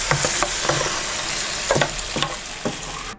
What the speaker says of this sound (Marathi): आता मी गॅस जरा बारीक करते आणि हे बॅटर आहे ना त्याच्यामध्ये ओतते.